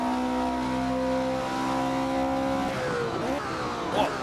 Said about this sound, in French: je vous laisse profiter un petit peu du son de cette Porsche pour la fin de ce tour ici à Zandvoort